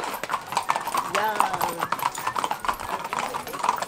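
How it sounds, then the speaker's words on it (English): Horse hooves clip-clop steadily on a street in Cuba, a brisk regular rhythm of sharp knocks close by, with a voice talking over part of it. "how is this guy riding four caballos all at once?"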